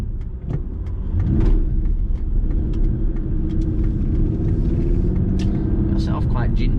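An Aston Martin DB9 Volante pulls away gently, its engine a low, steady rumble heard from inside the car with faint clicks and interior noise, no sharp revving.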